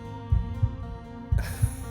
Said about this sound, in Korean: 분명히 이건 심장소리, 살아있다는 증거였다.